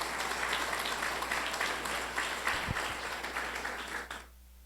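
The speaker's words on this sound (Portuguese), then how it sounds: "Você pode aplaudir o nome de Jesus." A church congregation applauds during a sermon, dense sustained clapping filling the room for about four seconds before cutting off abruptly.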